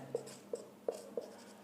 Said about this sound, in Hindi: आगे देखते हैं, इसको लिख देते हैं हम एक बार।